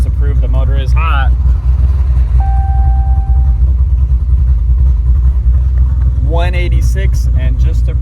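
A 426 Hemi engine in a Challenger idles hot with a loud, deep, steady rumble throughout, while people talk over it at the start and end.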